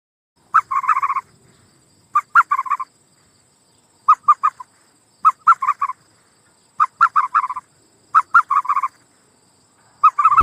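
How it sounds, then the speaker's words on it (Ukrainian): Repeated bursts of an ostrich's call, short stuttering groups of hoarse notes separated by pauses, loud and close. "Як каже страус."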